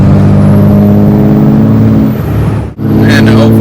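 A 2005 Cummins diesel truck engine idles loud and near, a deep steady rumble with a brief dip before it continues.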